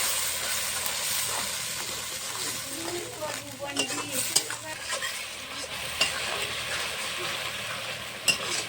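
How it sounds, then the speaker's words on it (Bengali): Salted mutton fries with spice paste and turmeric, giving a steady loud sizzle and hiss while a utensil stirs and scrapes the pan, with occasional sharper clinks. "মশলাটা আমি এখন ভালো করে কষিয়ে নেব।"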